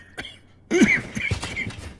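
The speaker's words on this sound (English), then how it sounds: "Let me cure your cough." A short cough from a character in a fantasy dub about hunting a dragon tyrant, followed by a strained vocal sound and further rough throat noises, close and fairly loud.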